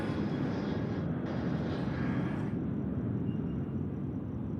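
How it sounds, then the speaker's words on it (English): A Qantas Boeing 737 jet departs Sydney Airport at night for Melbourne, its engines a steady, loud, broad roar held throughout with no voices. "nicely done there by the Qantas 737 departing to Melbourne, 499 service"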